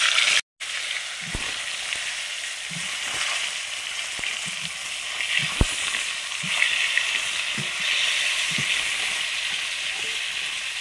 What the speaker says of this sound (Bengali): এবার পটলগুলো ভাজছি